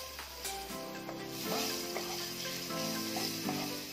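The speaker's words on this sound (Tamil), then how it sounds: "இப்போ ஒரு நறுக்கின பூண்டை சேர்த்து நல்லா ஃப்ரை பண்ணிக்கோங்க" Chopped garlic frying in a pan for sambar with a steady sizzle, broken by a few scraping stirs, close by and moderately loud, no one speaking.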